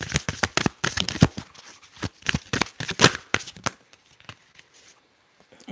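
Tarot cards shuffled in a rapid run of crisp riffling bursts for about four seconds, close and fairly loud, then a few soft card taps fading into near silence.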